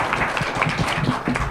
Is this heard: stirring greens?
no